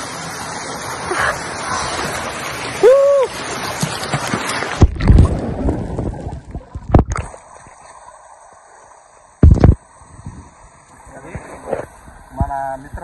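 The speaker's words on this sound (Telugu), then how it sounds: "ఎంజాయ్ చేస్తున్నాం గ్రీన్ వాటర్ ఫాల్స్." Water rushes and splashes steadily at the Green Waterfalls near Aluru Kona, close and loud for the first few seconds, then breaks into intermittent splashes as people talk and call out nearby.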